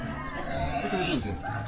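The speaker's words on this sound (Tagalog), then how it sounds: "Baboy." A farm pig in the Agusan Marsh area grunts and snorts at close range over a steady rustling background, and voices can be heard in the moment.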